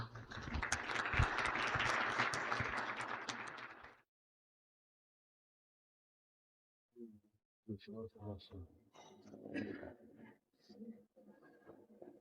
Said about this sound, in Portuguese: Vamos recebê-los, então, com muito carinho, uma salva de palmas.